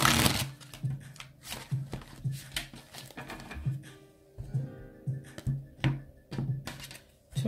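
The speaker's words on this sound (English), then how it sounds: "Taurus, one more shuffle." Tarot cards shuffled repeatedly in quick riffling bursts, close and clear, with soft patter between shuffles.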